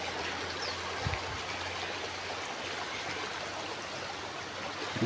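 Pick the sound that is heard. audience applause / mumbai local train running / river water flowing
river water flowing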